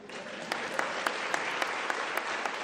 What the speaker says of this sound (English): You're not clapping with confidence.